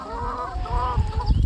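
Farm chickens in a shed cluck and squawk close by in a busy, overlapping chorus, with low rumbling and scuffling noise underneath.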